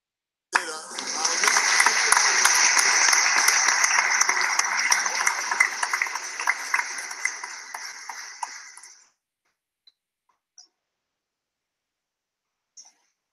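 A crowd cheers and applauds in a loud, dense burst that holds steady for about eight seconds, then cuts off abruptly into near silence broken by a couple of tiny clicks.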